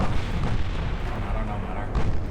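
Warship main guns fire a salvo in the naval battle game Ultimate Admiral Dreadnoughts, a dense booming roar of artillery that rumbles continuously.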